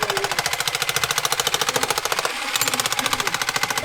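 A Makita electric jackhammer hammers rapidly and steadily at close range, loud and continuous, with a brief dip in the middle before the pounding resumes.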